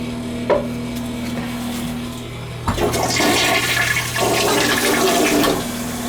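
An old toilet flushes while its handle is held down: a click of the handle, then a loud, close rush and gurgle of water that swirls and drains steadily, over a constant background hum.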